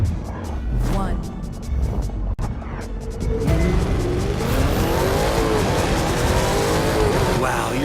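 A sleeper car in The Crew 2 launches and accelerates hard, the engine rising and roaring continuously with tire noise, loud and close, while a commentator's voice talks over it.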